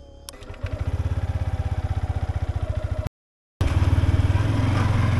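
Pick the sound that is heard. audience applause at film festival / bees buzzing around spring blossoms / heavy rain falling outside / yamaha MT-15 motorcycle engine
yamaha MT-15 motorcycle engine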